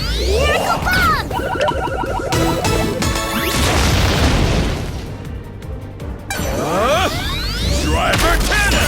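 A Miracle Bomb attack from the Digimon Story Time Stranger video game bursts in loud crashing impacts and whooshing explosive blasts, dense and continuous with a short lull partway through.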